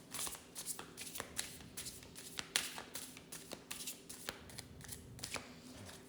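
Tarot cards are shuffled by hand in quick, soft riffling and tapping bursts that repeat steadily, faint and close, with no talking.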